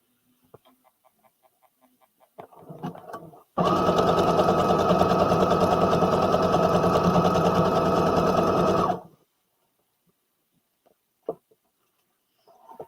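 A sewing machine stitches fabric for an oversized hoodie with the edge held along the presser foot. It is one close, steady, even run of about five seconds between quiet handling noises.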